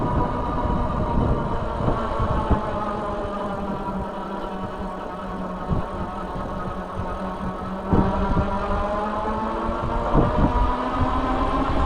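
A Velotric Nomad 1 Plus fat tire e-bike motor pulls up a steep climb with a steady, moderately loud hum and faint whine, layered with road and wind rumble and occasional bumps.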